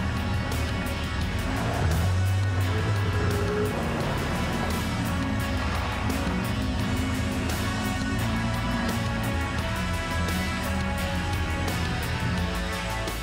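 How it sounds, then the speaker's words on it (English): 4WD engines rev hard as a Ford Ranger on a snatch strap claws up a sand dune, a loud continuous strained engine roar with shifting pitch and the whine of belts running throughout. "You could hear the belts, those motors just peaking"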